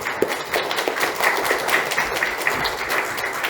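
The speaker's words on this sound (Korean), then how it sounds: "목사님 나오실 때 크게 박수로 환영해 주십니다." A church congregation claps loudly to welcome a guest pastor at a Sunday service, a sustained crowd of clapping with individual claps standing out in a hall.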